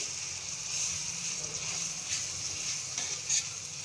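Cumin seeds and ginger-garlic paste frying in a pan for egg tawa masala give a quiet, steady sizzle, with faint stirring scrapes and a few small crackles.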